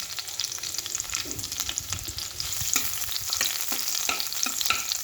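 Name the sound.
tomatoes frying in a pan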